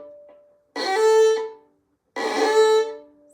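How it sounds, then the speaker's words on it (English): Two scratchy, pressed violin notes from a bow held too tightly, each about three quarters of a second, harsh and noisy with a crunchy attack, separated by a short silence. "Or if I'm holding it too tight, it's gonna sound like this."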